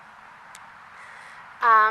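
Birds calling outdoors, with a crow's harsh caw standing out loud near the end above a faint, steady background.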